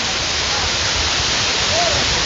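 Jadipai waterfall in Bandarban roars steadily and loudly up close, an unbroken wash of falling water.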